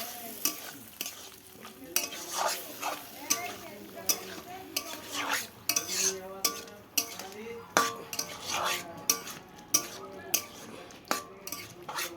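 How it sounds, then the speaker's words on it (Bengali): A spoon stirs and scrapes through a sizzling pan of food cooked with green chili and onion paste, giving repeated metallic clinks and scraping strokes over a soft frying hiss, fairly close and with no voices. "তারপরে যে কাঁচা লঙ্কা পেঁয়াজ বাটা দিয়ে নাড়াচাড়া দিয়ে নামিয়ে নেব"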